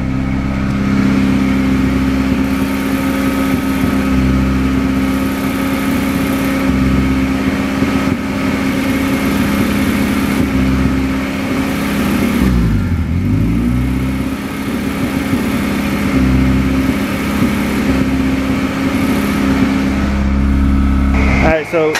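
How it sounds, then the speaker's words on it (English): A boosted Honda Accord with an F23 engine idling with the clutch pressed, giving a loud, steady engine drone with a rattling clutch chatter and small swells in revs, close by, with no one talking. "When you're in the clutch, it chatters."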